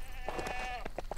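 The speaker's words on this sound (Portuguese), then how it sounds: "Bom, aqui em cima tem a cabra." Goat in LEGO Worlds giving several short bleats over a faint steady background tone, close and moderately loud, with someone talking over part of it.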